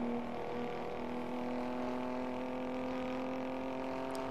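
A Mack truck engine drones at redline in American Truck Simulator, a steady, faint tonal hum with stacked harmonics holding constant throughout.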